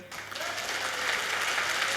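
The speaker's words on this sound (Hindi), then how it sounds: "ताली बजा लो अपने लिए।" Seated audience members at a motivational talk clap for themselves, a crowd's applause swelling quickly from a brief quiet start into a steady patter over two seconds.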